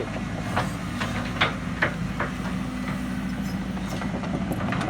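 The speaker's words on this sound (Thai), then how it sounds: "แคตเตอร์พิล่า รุ่น 313 D2 GC นะครับผม เป็นรถขุดขนาด 13 ตันนะครับผมรุ่นนี้" A Caterpillar 313 D2 GC 13-ton excavator with a roughly 91-horsepower engine runs at a steady idle after digging a fish pond, a constant low diesel rumble with occasional light clanks, moderately close and without speech.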